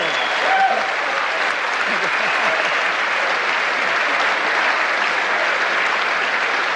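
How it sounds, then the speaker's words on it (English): A large audience at the 2002 Allan Border Medal cricket awards ceremony applauds loudly and steadily, a dense, unbroken wash of clapping that runs through the whole stretch without a break. "please keep your applause going"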